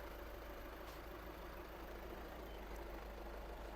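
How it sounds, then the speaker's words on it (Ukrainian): A Volkswagen Caddy diesel engine idles steadily, a low continuous rumble with an even hum and no talking. "Двигун працює чітко"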